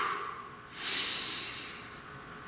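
A slow, deep breath taken close to the microphone, a soft airy inhale swelling and then easing off, alone in a quiet room.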